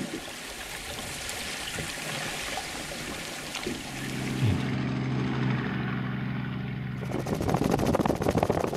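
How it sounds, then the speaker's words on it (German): Helicopter over the Okavango Delta wetlands, a steady rotor and engine drone that grows heavier and lower partway through, continuous and fairly close throughout. "lohnt sich ein Helikopterflug über das Okavango-Delta in jedem Fall"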